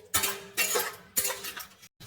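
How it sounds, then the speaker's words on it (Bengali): A ladle scrapes and clinks in a pot of potato and sojna stem curry, two bursts of stirring with a short pause between, close and moderately loud. "এবার আমি এর মধ্যে দিয়ে দিলাম আগে থেকে ভেজে রাখা সন্না ডাঁটা আর আলু দিয়ে আমি এটাকে নাড়াচাড়া করতে থাকবো।"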